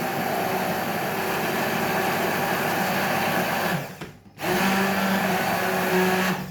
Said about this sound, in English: If at this point you want to blend it, I will show you how.